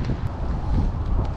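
Steady wind buffets the microphone in low, rumbling gusts at an outdoor fishing lake match, with no voices.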